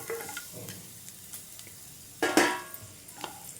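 Deseeded raw tamarind dropped into hot oil in a pan, giving a soft sizzle with light stirring clatter and a louder burst of frying partway through.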